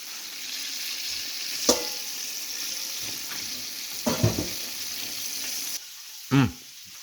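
Bullfrog frying in a big pan of grease, a steady broad sizzle running throughout with a few louder stirring clatters and bursts, close by and without talk.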